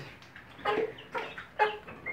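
Chicks and ducklings in an incubator give a few short, high peeps and chirps spaced about half a second apart, close and fairly quiet.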